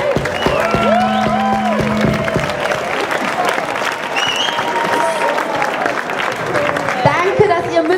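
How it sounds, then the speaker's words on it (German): Warm applause from an audience fills the space, steady clapping carried on throughout, with a voice and some musical tones sounding over it. "Ein Applaus für euch alle einmal."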